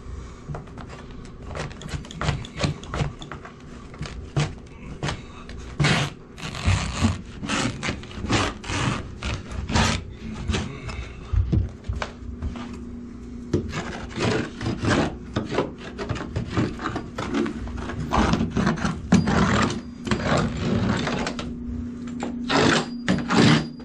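Carpet being power stretched and trimmed over pad in a room, with steady rasping, scraping and rubbing strokes and sharp knocks repeating throughout at close range, no talking.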